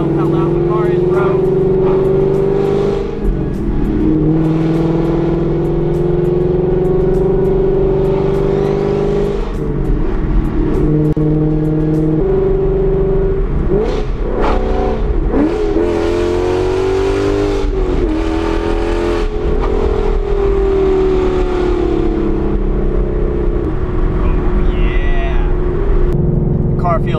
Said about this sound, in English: Can't tell how loud the car is, bro.